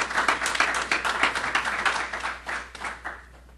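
An audience at a citizens' platform launch in Washington applauds, dense clapping that holds steady for a few seconds before tapering off.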